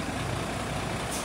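Trucks crawling through congested highway traffic on the Maharlika Highway, a steady broadband rumble of heavy engines with a faint hiss near the end, continuous and moderately distant, no voices.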